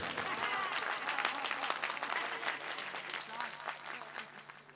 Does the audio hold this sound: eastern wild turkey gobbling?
no